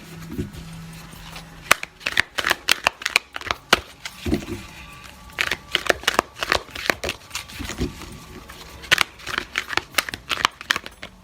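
A deck of oracle cards is shuffled by hand in bursts of sharp riffling clicks and papery slaps, loud and close, with short pauses between rounds.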